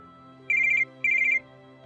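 A telephone ringtone for an incoming call: two short bursts of rapid trilling electronic tones separated by a brief pause, loud and clear over a faint background.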